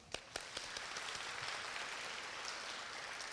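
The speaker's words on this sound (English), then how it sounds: "Why don't we give each other a big round of applause?" An audience claps at the 2018 Korea University ISC graduation ceremony. The applause is faint but continuous, with a few sharper individual claps at the start, then even, dense patter.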